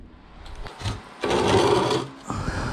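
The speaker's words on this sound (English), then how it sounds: "I got that wrapped around the mandrel and nothing really came apart" Copper wire for a handmade circle-link ring is wrapped around a ring mandrel. Close metallic scraping and rubbing come in short bursts, with one sustained grinding stretch in the middle.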